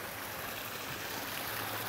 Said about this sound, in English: You see the water coming in here.